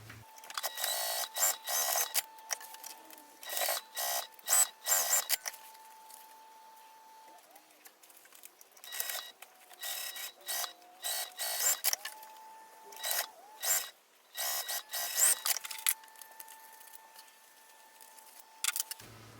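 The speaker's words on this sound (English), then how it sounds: "I'm just going to sew down both of these sides, leaving the bottom completely open." A sewing machine stitches down both sides of a fabric crossbody bag, running in repeated short bursts separated by pauses, close and moderately loud, with a steady hum behind it.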